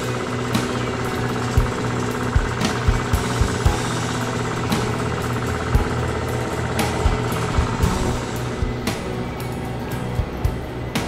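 A salvaged scrap air compressor runs steadily, building pressure with a dense mechanical drone, rattling vibration and frequent irregular knocks and thumps throughout, fairly loud and close.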